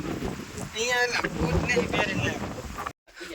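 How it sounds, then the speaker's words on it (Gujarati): Strong wind on a hilltop near a temple buffets the microphone in loud, uneven gusts, with a brief dropout near the end. "અત્યારે હાલ પવન બહુ આવી રહ્યો છે"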